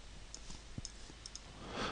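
A computer mouse clicks faintly while geometry is picked in 3ds Max Particle Flow, a handful of soft, sharp clicks scattered irregularly across a quiet moment, with no talk.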